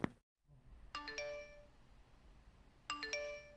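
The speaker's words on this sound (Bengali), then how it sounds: "এ সময় তো কেউ কলিং বেল দেয় না" A cartoon doorbell rings twice in a bright ding-dong chime, with each ring a quick cluster of bell tones that decays slowly. The two rings are about two seconds apart, clear and alone.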